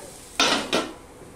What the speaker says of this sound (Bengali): এবার আমি ঢাকা দিয়ে দিলাম